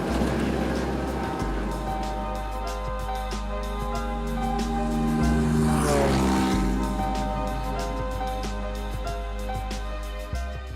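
Inside a small airplane cabin in Papua New Guinea, a loud, steady engine drone with propeller hum fills the clip continuously, close and even, with brief shifts in pitch and faint voices beneath it.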